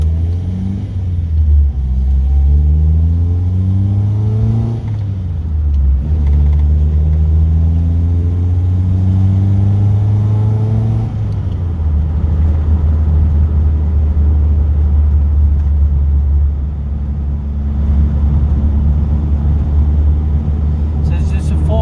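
Classic car driving on a UK country road: a loud, continuous low engine drone inside the cabin, rising and falling with gear changes, as people talk over it.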